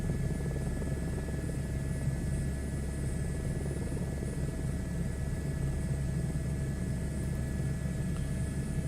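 An Airbus H125 helicopter flies in Microsoft Flight Simulator, a steady rotor and turbine drone with a thick low-end throb and a thin high whine, constant and close throughout with no talk.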